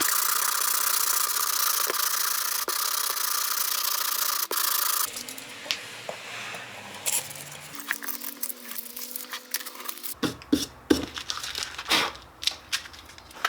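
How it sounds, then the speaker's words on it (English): Hand sanding of a plywood box with 120 grit sandpaper during finishing, a steady broad scratchy rub for the first few seconds, then quieter intermittent strokes, shuffles and small knocks. "Now I'm just going to hit it with some 120 grit sandpaper."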